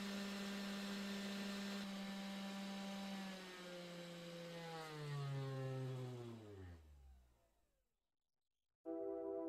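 A 500W CNC spindle motor on an upgraded Sainsmart Genmitsu 3018-to-3040 router hums with a steady whine, then winds down in pitch and fades to silence before abruptly starting up again near the end.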